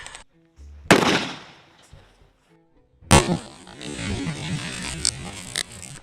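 Two loud, sharp reports from a Krag-Jorgensen rifle fired at a target block outdoors, a few seconds apart, each a sudden crack followed by a short ringing decay, with quiet gaps between.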